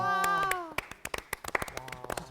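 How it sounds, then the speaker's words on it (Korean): A small group claps on a television singing-competition set after a duet performance, a held sung or spoken voice fading first, then a quick irregular run of about fifteen sharp, close handclaps. "박수 한번 주세요"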